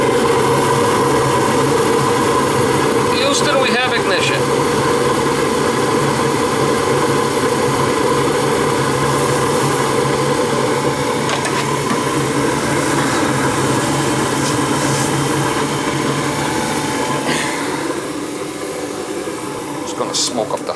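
A gas furnace in an old house fires up and runs, giving a loud, steady roaring rumble with a constant hum that continues throughout and eases slightly near the end.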